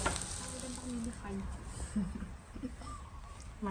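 Beaten egg frying in a pan for a Thai omelette, a steady close sizzle with stirring scrapes, while a voice talks over it.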